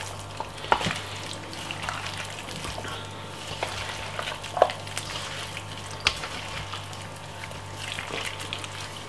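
Marinated pork chops sizzle in a pan with a soft, steady frying hiss. Occasional clinks and scraping bumps from stirring break in every couple of seconds, close and moderate in level, with no talk.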